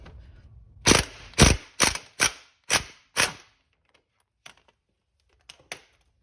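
An impact gun spins the front strut nut on a 2006-2011 Kia Rio / Hyundai Accent in six loud, close, evenly spaced short bursts, followed by a few faint clicks.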